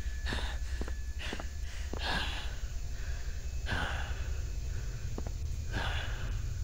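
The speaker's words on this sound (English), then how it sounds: "Yeah, you hear your breathing." Player character in SCP Containment Breach breathing hard while running, a series of heavy, close breaths and gasps repeating at an uneven rhythm over a low steady hum, with no talk.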